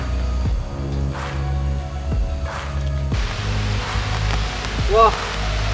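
Rain patters steadily at a river mouth where a clear stream meets another river, a dense hiss of drops over the flowing water with a faint bird chirp near the end.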